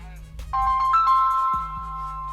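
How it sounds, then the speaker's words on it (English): A business phone rings nearby with a bright electronic tone, a couple of short stepped chime notes followed by a sustained ringing tone over a low background hum, with no talking. "So the new phone ringing"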